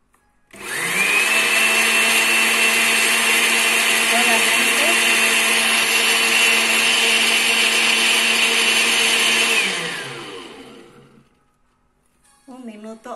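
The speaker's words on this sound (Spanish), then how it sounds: "En la licuadora." A blender whirs loudly and steadily for about ten seconds mixing a shake, then winds down, followed by a brief clatter.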